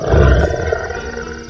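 A lion in a children's story lets out one loud, deep roar that swells and then trails off, alone and close.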